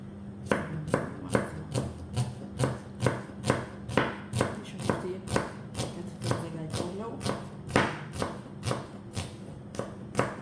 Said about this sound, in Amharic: ለዚህ ነው ሽንኩርት የሚከተፈው።